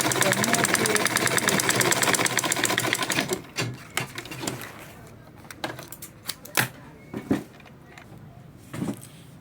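A sewing machine top stitches a purse organizer bag, running in a steady fast rapid clatter for about three seconds, then stopping and giving a few short bursts and clicks nearby.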